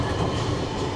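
Commuter train rolling from Sydney toward Katoomba in the Blue Mountains, a loud, steady close rumble of wheels and carriage noise filling the whole moment.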